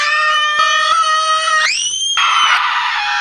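A mother and her young son scream together at full force, long high sustained shrieks that stay loud throughout and slide upward partway into a shrill peak, with no talk.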